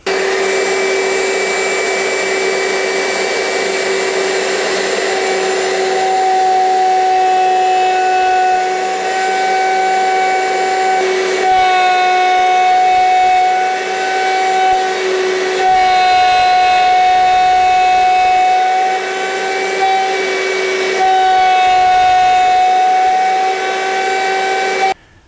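A power tool cuts mortises into wooden bookcase rails, giving off a loud, steady motor whine with shifting tonal overtones that runs nearly unbroken for over twenty seconds before cutting off.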